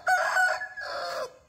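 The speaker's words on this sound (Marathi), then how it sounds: "कोंबडी बघता इकडे." Rooster crowing at dawn on a farmhouse in Safale, Palghar: one close, loud two-part cock-a-doodle-doo call lasting just over a second, heard alone.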